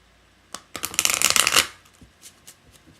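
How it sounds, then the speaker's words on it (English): A deck of tarot cards is riffled in a quick, close burst of crisp fluttering, followed by a few soft taps as the cards settle. "shuffle them and get them all out here first, and then we'll go over them when all the cards have been selected"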